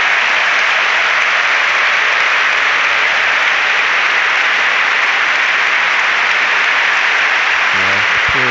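Crowd at a football stadium applauding during an Aston Villa versus Everton match, a loud, sustained broadband roar of clapping that holds steady throughout, with a voice creeping in at the very end.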